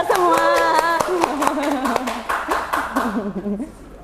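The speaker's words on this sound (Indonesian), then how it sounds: "Tepuk tangan dulu untuk kita semua." Audience clapping at a casual talk show, sharp hand claps scattered under someone speaking and light laughter, the claps fading out toward the end as talk continues.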